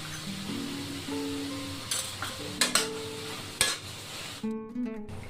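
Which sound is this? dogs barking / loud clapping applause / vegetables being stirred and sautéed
vegetables being stirred and sautéed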